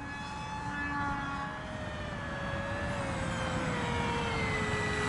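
An A-10 Warthog RC foam model plane flies past with a steady whining electric drone whose pitch slowly falls as it moves away, set against broad outdoor wind noise.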